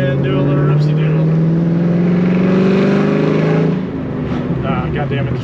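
A Pontiac GTO held in third gear pulls hard, its engine note climbing steadily and loud before easing off near the end, heard from inside the car.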